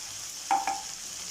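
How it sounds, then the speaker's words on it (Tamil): A tamarind, chili powder and salt mixture hits a hot pan of sautéed brinjal for Pondicherry fish curry, giving a short, close splash-sizzle with a second smaller burst over a low steady hiss. "இப்போ வந்து நம்ம இந்த கரைச்சி வச்ச மிளகாத்தூளை குழம்பு எடுத்து ஊற்றிக்குவோம்."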